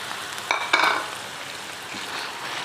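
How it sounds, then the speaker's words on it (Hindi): Chicken liver frying with ginger garlic paste on high flame, a steady moderate sizzle with a couple of sharp stirring bursts near the start, no voices. "थोड़ी सी हाई फ्लेम पर हमने कलेजी को इसके पेस्ट, जिंजर गार्लिक पेस्ट के साथ हमने इसको अच्छा सा भूनना है 3-4 मिनट"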